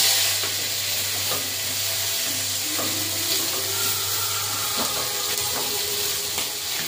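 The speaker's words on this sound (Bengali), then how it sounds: "তুলে নিয়ে ট্যাংরা মাছগুলো ভেজে নেব" Tangra fish fry in hot oil in a wok, a continuous sizzling hiss broken by a few clinks and scrapes of a utensil, with a low steady hum underneath and no talking.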